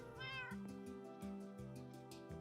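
Cat meowing in Minecraft, a repeated series of short, clean meows in a steady rhythm, faint and alone with no talk over it.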